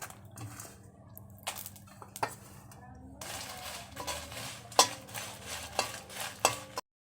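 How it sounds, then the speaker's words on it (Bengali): Green chilies frying in a pan for a bhorta meal, with spoon scraping and clinking against the metal pan over a soft, steady sizzle that grows a little fuller midway. "মরিচটা একটু ভাজা নিব।"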